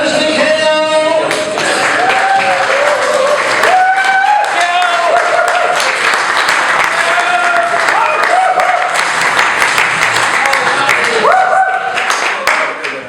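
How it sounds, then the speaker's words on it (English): Comedy club audience applauding and clapping steadily for the host taking the stage, loud and continuous throughout, with a voice talking over the clapping near the start and a few shouts in the crowd. "That was nice because you actually continue clapping"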